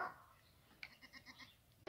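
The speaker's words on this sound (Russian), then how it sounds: "Горная коза." A goat in a village yard gives a few soft, breathy bleats in a loose rhythm, fairly faint and close, followed by a sudden louder knock or bump at the end.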